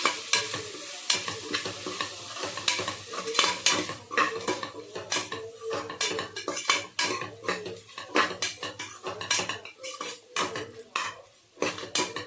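Masala being stirred in a cooking pot, a spoon scraping and clanking against the metal with a light sizzle underneath, in a steady run of close, irregular strokes.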